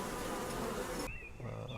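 Honeybees buzzing around beehives on a bee farm, a dense steady drone that fills the scene and cuts sharply quieter partway through, leaving a fainter hum with a single insect whine.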